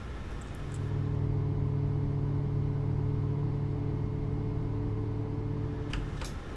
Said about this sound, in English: Alright, our engine number 2 has been started.